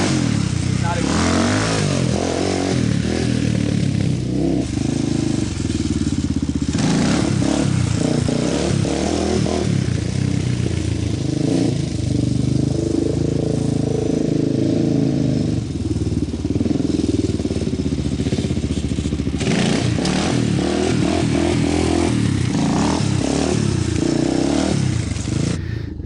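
An ATV engine revs hard and steadily during a wheelie, a loud continuous drone that rises and eases as the throttle is let off a little, with clattering and scraping mixed in.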